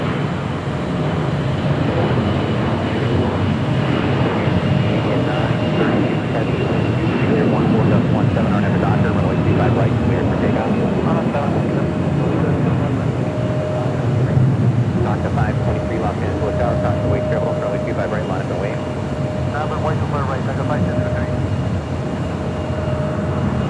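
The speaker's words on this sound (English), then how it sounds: "Next departure here on the south side is Air Canada, Flight 790, heading back to Toronto in an" Air Canada Airbus A321 jet departing LAX on the south side, a steady broad engine roar that holds loud and continuous throughout, with a faint whine running above it.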